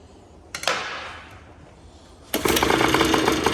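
The small engine of a Tri-Zinger gives a brief sputter, goes quiet for a moment, then fires up and runs loud, close and buzzing for the rest of the clip.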